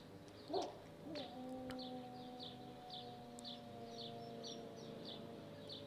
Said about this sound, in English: howls in time and in tune with the siren